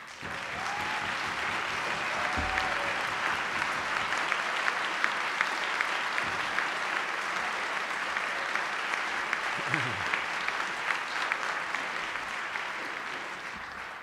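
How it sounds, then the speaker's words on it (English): Sustained applause from the chamber audience at Virginia Governor Terry McAuliffe's 2015 State of the Commonwealth Address, a broad, even roar of many hands lasting the whole stretch with little change in loudness. "If they could stand and give them a round of applause."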